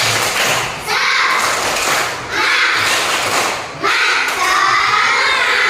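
Schoolchildren perform the 'tepuk semangat' clapping chant in a classroom, loud rhythmic group clapping mixed with shouted chanting voices in several bursts, close and energetic.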